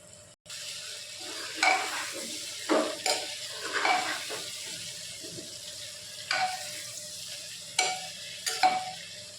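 Lentils, potato and chopped Malabar spinach being stirred together in hot oil, a soft sizzle under repeated spoon scrapes and clatters coming in irregular bursts, close and moderately loud.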